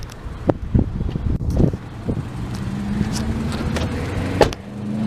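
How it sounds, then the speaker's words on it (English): A Subaru passes by outdoors, its engine swelling and fading over wind noise and a few nearby knocks and rustles. "you can hear Subaru going by"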